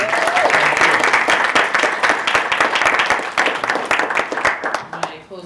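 Lecture-hall audience gives a warm round of applause thanking a speaker after a talk on race, many hands clapping steadily and close for about five seconds before fading out at the end.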